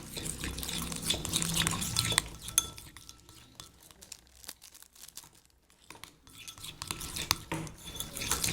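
Red jam being stirred in a bowl for shortbread-style cookies, a steady scraping and clinking of a utensil against the bowl with wet, sticky squelches, louder at the start and end with a quieter pause in the middle.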